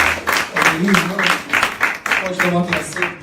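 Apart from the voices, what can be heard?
church congregation applauding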